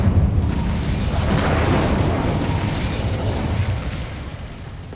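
Fiery Incendio spell explosion in Hogwarts Legacy, a broad rumbling burst of flame that swells loudly and then slowly fades over several seconds, with no voices.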